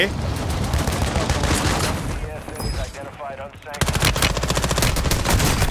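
Heavy automatic gunfire from the video game Warzone, sustained rapid bursts that are loud and close, with a short lull before fire resumes even harder.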